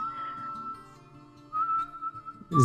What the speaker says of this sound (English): A sad lament that he whistles to himself every once in a while